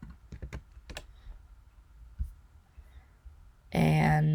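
Commands typed on a computer keyboard: a few quick bursts of close, crisp key clicks with pauses between them, then a loud, sustained sound of another kind cuts in at the end.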